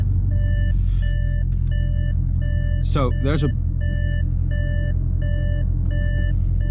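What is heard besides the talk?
Audi RS6 open-door warning beeping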